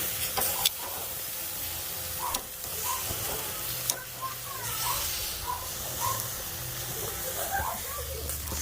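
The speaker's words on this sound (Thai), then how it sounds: "ย่างไส้กรอกเสร็จแล้วก็ย่างปลานะจ๊ะ" Fish sizzles on a grill after Isan sausage during Isan cooking in Ireland. A soft, steady hiss runs throughout, fairly quiet, with faint crackles and small clicks scattered through it.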